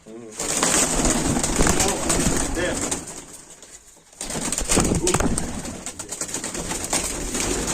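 Baku fighting pigeons coo and flutter close by, a busy mix of bird sounds with people talking over them throughout and a brief lull midway.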